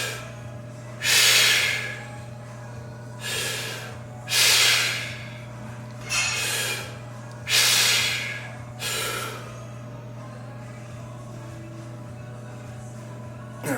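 Heavy, forceful bracing breaths during an isometric upper-body workout, five or six loud hissing exhales in a slow, regular rhythm, close to the mic with no talking.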